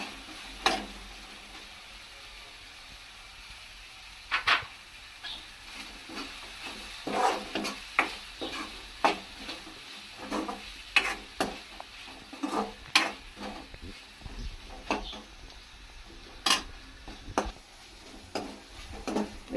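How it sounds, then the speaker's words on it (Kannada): Chopped beans and carrot stir-frying in a pan, a soft continuous sizzle under irregular sharp ticks and scrapes of the spatula against the pan, close and fairly quiet, with no talking. "ಇವಾಗ ಇದಕ್ಕೆ ಹೆಚ್ಚಿಟ್ಟಿರೋ ಬೀನ್ಸು ಫ್ರೈ ಆಗಿದೆ"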